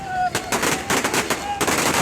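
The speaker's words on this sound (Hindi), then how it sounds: "सड़कों पर आतिशबाजी की" Rapid bursts of fireworks set off in the streets during a political victory celebration, a dense run of loud crackling bangs over two seconds, close and harsh, with faint tonal whistles between.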